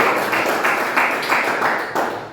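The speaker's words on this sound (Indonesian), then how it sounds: "Tepuk tangan untuk Waliben Novian" Brief burst of hand clapping from a small class group, dense and steady, somewhat noisy and close.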